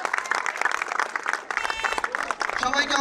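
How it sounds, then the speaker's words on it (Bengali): Crowd applause at the opening ceremony of a cricket match in Narayanganj, Bangladesh, dense clapping sustained for a few seconds with voices mixed in. "সবাই জোরে করে তালি দেন"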